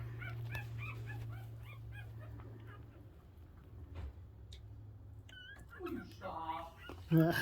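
Dogs whimpering and yipping nearby in short, high whines, wanting to go outside, with a person's voice talking over them and a low hum underneath.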